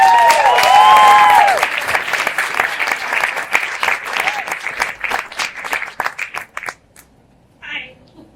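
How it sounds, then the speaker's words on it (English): Audience at a lecture evening applauding a speaker, sustained close clapping with a voice calling out at the start, gradually thinning to a few claps and then quiet. "a very warm round of applause, please, for Serena McCarroll"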